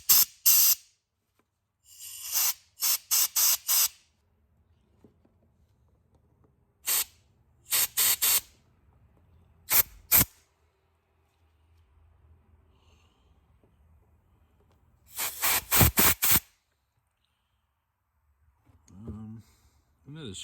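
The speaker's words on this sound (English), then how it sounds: "Then we'll give her some spray." Aerosol spray is applied to a CF Moto Moose Tracker ATV that sat for three years, coming as several sharp hissing bursts, some single and some in quick clusters, with quiet gaps between them and faint handling noise.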